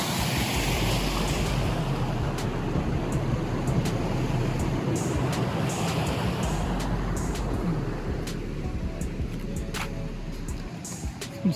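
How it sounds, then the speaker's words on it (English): River water rushing hard over rocks near stepping stones, a loud, steady broadband roar filling the whole stretch with constant wind buffeting on the microphone and no talk. "So the water's flowing pretty hard right here."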